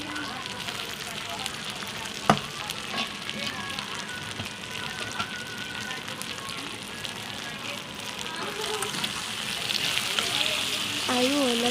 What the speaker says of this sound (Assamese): মই চিকেনখিনি এতিয়া কেৰাহীত দি দিছোঁ